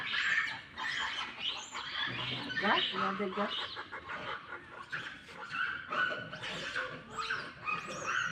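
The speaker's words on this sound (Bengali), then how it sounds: "এই কুত্তা তো মানুষ রকম উঠি পড়ে" A dog barks, yips and whimpers in short bursts amid lively outdoor chatter, birds and other voices, with people talking throughout.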